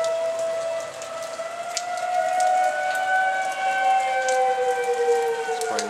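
A tornado warning siren on New Year's Eve wails steadily in long, sustained tones that slowly bend in pitch, carrying loudly from a distance over a soft bed of falling rain.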